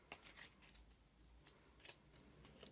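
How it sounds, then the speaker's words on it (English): Print-and-play cards for a solo board game are shuffled by hand, giving soft, quiet riffling with a few sharper close clicks and snaps, alone without talk. "And then you just shuffle these cards up."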